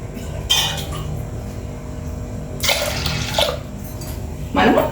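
Water poured from a glass onto lentils in a pressure cooker, three short splashing gushes spaced apart over a low kitchen hum.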